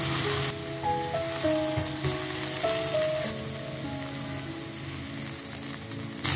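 Okra fries over high heat in a pan as beaten egg goes in, producing a dense, continuous sizzle under a soft melodic background tune.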